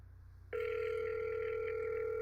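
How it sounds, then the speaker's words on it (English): A telephone rings during a recorded conversation. After a brief quiet hum, a loud, steady electronic ring tone starts abruptly and holds close and clear to the end, with no one talking over it. "Hold on, the phone's ringing."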